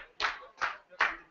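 Three distinct bursts of clapping from a crowd at a women's classic powerlifting world championship, greeting a successful silver-medal bench press, heard close and even.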